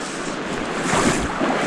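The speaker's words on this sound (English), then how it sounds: "Splashing around here." Water splashing and churning around legs wading a trout stream in winter, a steady broad rush close to the microphone with slight surges, no talking.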